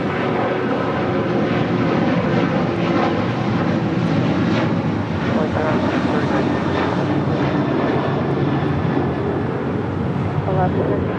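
American airliner taking off from LAX runway 25 right, a continuous loud roar of jet engines holding steady throughout, with faint radio chatter underneath.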